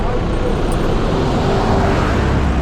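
Steady road traffic on the Dhimbam hill ghat road, a continuous broadband rumble of passing cars and motor vehicles that stays loud and even throughout.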